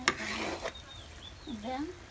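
A spoon stirs a thickening fish sauce broth in a pot, giving a brief scrape and clink followed by soft stirring, with a voice briefly heard.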